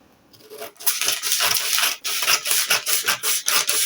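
Scissors cutting through fabric for the front yoke of a corset dress, a steady close rasping crunch with short rhythmic snips and brief pauses, no talk.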